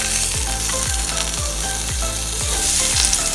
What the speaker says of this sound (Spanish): con la mantequilla vamos a primero a dorar el tocino o la tocineta